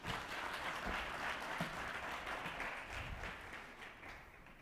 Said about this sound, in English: Another round of applause for the Prof.